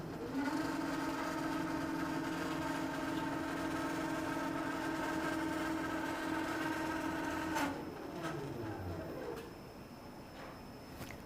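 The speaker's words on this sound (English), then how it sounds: "the machine will move itself over to the left side" A quilting machine travels itself along a rolling rail frame, a steady motor whine with layered tonal hum that drops in pitch and fades as the carriage slows, followed by a few light clicks.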